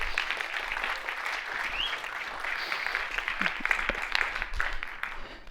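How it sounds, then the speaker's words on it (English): Audience applause for a presenter called up to give the first pitch at an innovation shark tank event, a steady wash of clapping from a room of people lasting several seconds at moderate loudness. "Espen, give him a round of applause, guys."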